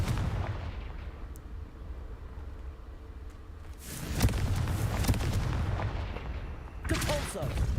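A fiery Confringo spell explodes in Hogwarts Legacy, a burst of loud booming blasts over continuous game noise, with a second impact following a few seconds later.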